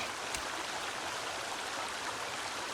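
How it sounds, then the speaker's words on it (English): A waterfall in the video game Sons of the Forest, a constant broadband rush of falling water, steady and moderately loud with no other sounds. "We're going to get rid of a waterfall real quick."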